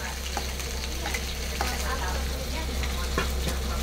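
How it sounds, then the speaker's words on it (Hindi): Garlic and chili paste goes into a hot pan and sizzles and fries steadily at moderate volume. A spoon stirs through it with scattered scraping clicks. "देखिए अब इसमें लहसुन और मिर्चा का पेस्ट बनाए थे वो वाला डाल दिए"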